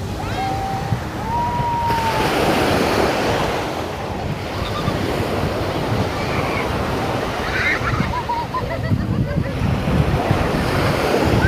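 Powerful ocean surf roars continuously on a sandy beach with heavy wind buffeting the microphone, occasional faint voices audible beneath the crashing water.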